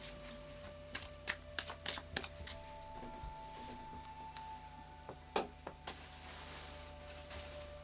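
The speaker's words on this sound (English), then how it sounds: "I'll just do a final shuffle of the Oracle of Visions." Oracle of Visions cards shuffled by hand, a soft irregular flurry of quiet slaps and riffles over a faint background hum, close and without talk.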